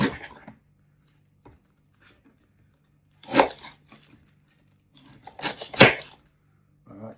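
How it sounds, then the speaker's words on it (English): A dried-out galangal stem from a potted plant is cut off in a few crisp snipping and tearing bursts, close and separated by quiet pauses. "Cut that off because I think it's dried out too much."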